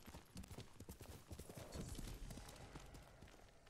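Horse hooves clip-clopping at a steady gait through a forest in the video game Ghost of Tsushima, a dense continuous patter of hoofbeats up close over ambient rustle.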